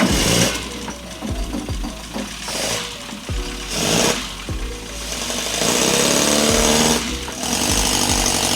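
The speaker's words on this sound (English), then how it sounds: "So as you just heard, the engine did start." An MG Midget engine, long abandoned and running with its timing off, cranks and catches. Rough, loud bursts of running are broken by stumbles and restarts, and heavy irregular knocking pulses carry on throughout.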